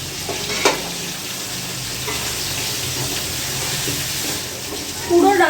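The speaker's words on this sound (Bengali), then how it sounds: "এবারে ভালো করে কষাতে হবে।" Chicken and ground spices for chicken pulao sizzle steadily as they are stir-fried in a pan over medium-high flame, with the scrape of stirring and a brief clatter near the end, while a person talks.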